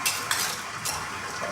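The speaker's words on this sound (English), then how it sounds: "we are gonna whisk together our wet ingredients here." Heavy cream and egg yolks are whisked briskly in a bowl, a close, continuous scraping swish with a few sharper clicks of the whisk against the sides.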